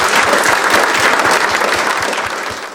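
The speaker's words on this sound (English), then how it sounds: "Massive round of applause for Gareth." Enthusiastic applause from a conference audience, dense clapping that holds steady and then begins to fade slightly toward the end.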